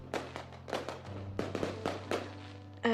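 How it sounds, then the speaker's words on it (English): Fireworks crackle and pop in a steady scatter of faint bursts during a holiday scene in the Seduce Me video game, a tone-like sound entering at the very end. "Erik, aren't you going to watch the fireworks?"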